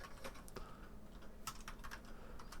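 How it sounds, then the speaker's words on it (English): A computer keyboard clicks in a quick, uneven burst of keystrokes as a search is typed, quiet and close with no talking. "Let's type in Galen Strawson"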